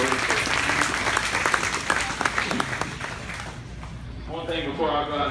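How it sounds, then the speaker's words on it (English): Crowd applause rings out for the unpaid helpers at a grand champion steer show in a fairgrounds arena, steady clapping that tapers off near the end as voices carry underneath. "Let's give all these helpers a round of applause."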